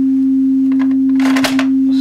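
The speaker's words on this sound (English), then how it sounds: "you can probably hear that chuntering away in the background" Steady low-level 300 Hz test tone droning through an Orange CR120 guitar amp with an intermittent fault, overlaid midway by bursts of scratchy crackling and rustling noise, as from handling or a loose connection.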